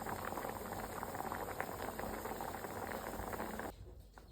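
A pot of murrel fish curry bubbles at a steady boil, a close, dense simmering hiss and patter that suddenly drops off near the end as the heat goes out.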